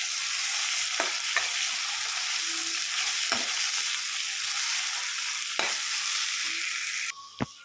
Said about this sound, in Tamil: இஞ்சி பூண்டு பேஸ்ட்டை நல்லா வதக்கி விட்டுக்கோங்க